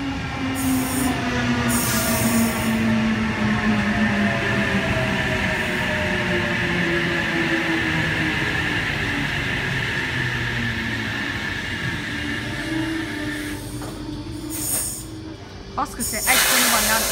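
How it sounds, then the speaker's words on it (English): A Sydney Trains H set arriving at a platform at Woonona, a loud close rumble with rising and falling wheel and brake squeals, easing toward a stop before a final hiss and clunks. "arriving onto platform 2, Port Kembla service. H41 is the set."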